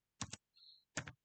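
Typing on a computer keyboard in a quiet room, two short bursts of quick close key clicks separated by a brief pause.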